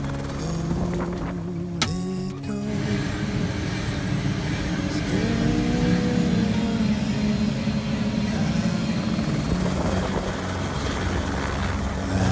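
A helicopter flies up toward Fox Glacier in New Zealand, its rotor and turbine roaring loud and steady for the whole stretch with a continuous low thudding drone and no talk.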